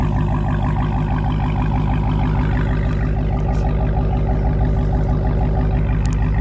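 A 2020 Dodge Challenger Hellcat Redeye idles from the rear, a steady deep rumble with a loping pulse that stays loud and close throughout, with no talking.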